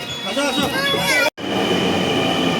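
A crowded metro train in Bangladesh rumbles steadily with squealing wheels and hum, interrupted by a brief dropout, while voices murmur underneath.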